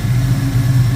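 A 1972 Ford Mustang Mach 1 engine idles steadily nearby, a loud, continuous low rumble with an even pulsing throb and no voices.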